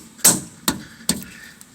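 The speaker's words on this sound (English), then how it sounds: "I'm going to hammer these in." Three sharp, close hammer blows, spaced about half a second apart, drive plastic frame plugs into the frame holes of a Silverado/Sierra pickup truck, with a piece of wood in use; no one talks.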